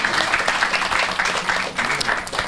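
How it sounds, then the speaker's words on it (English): An audience claps steadily for an interpreter at an event, a sustained patter of many hands with a few louder bursts. "On applaudit très très fort pour lui"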